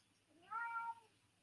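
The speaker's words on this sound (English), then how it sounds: "Well, that was my cat." A pet cat gives a single short meow, faint and somewhat distant, over a low background hum.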